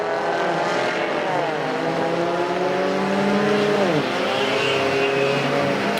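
Mini stock race cars roar around a figure-8 track at Perris Auto Speedway during a night main event, engines droning and revving close by in a steady, loud blend with rising and falling pitch.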